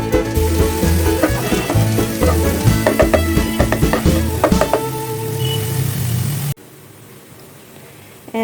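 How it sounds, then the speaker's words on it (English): Cucumber pieces sizzle loudly in a pan of Bengali fish curry, with scraping stirs and clinks over a dense frying hiss that cuts abruptly to a faint low hum near the end. "And I will add the cucumber. And cook it for a couple of minutes."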